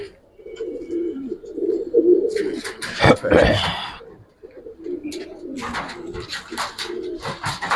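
Gribaz silver coloring pigeons coo in low, throaty repeated calls throughout, close and fairly loud, with occasional fluttering bursts and faint voices in the background.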